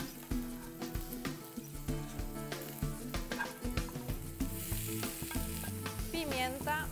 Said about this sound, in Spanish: Aceite. Vegetales en la sartén.